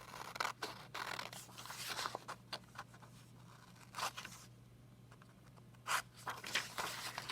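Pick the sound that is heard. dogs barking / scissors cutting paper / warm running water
scissors cutting paper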